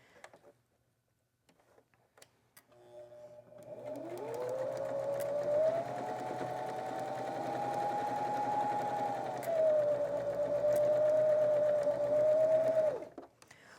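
A sewing machine sews log cabin quilt strips from scraps, running in a smooth, sustained whir with a humming motor tone that dips and rises slightly, starting after a few soft clicks and stopping abruptly.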